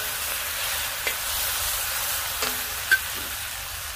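Fajita vegetables being stirred and shifted in a Weber cast iron wok over a hot Weber kettle grill, a steady sizzle with a few sharp scrapes and clacks of the utensil against the iron.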